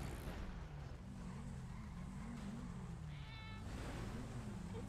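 A cat meows repeatedly at close range on a city street in the Cidade Alta area, with vocal cries rising and falling over a steady low rumble of traffic or an idling car.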